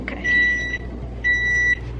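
Kitchen timer beeping while a cookie bakes in a pan, two long electronic beeps about a second apart, clear and close with faint room noise behind.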